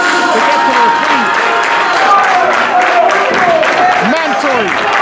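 Wrestling event crowd clapping steadily throughout, a dense wash of applause with scattered cheers and a commentator's voice over the noise.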